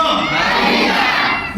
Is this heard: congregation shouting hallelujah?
yes